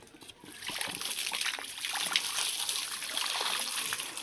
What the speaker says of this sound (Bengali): জল ঢেলে দাও। দাও। আমার মাথায় ঢেলে দাও।